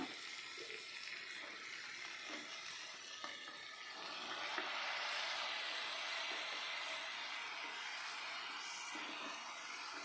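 Vegetables for white kurma hitting a hot pan, giving a steady broad sizzle that swells midway and keeps hissing for several seconds with no talk.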